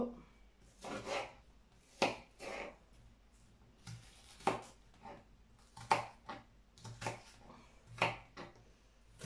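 A knife chops onion into small pieces on a board for a cauliflower gnocchi gratin, about a dozen sharp, close knocks in uneven bursts with short rubbing scrapes between, alone with no talk.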